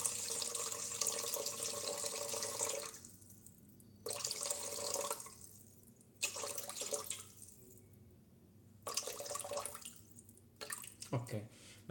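Water runs from a tap in bursts for a bread dough, about 519 grams in total, in a hot kitchen. There are four loud splashing pours separated by short pauses, close and steady.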